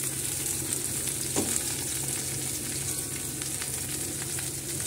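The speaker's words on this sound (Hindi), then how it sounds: "अब इसको हमें थोड़ा क्रिस्पी होने तक भूनना है। ये हमें थोड़ा हाई फ्लेम पे ही भूनना होगा," Bitter gourd (karela) pieces fry over a high flame until crisp, producing a loud, continuous close-up sizzle with a brief scrape of stirring partway through.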